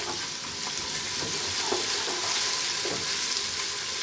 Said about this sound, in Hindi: अब हम इसमें लहसुन और अदरक का पेस्ट शामिल करेंगे।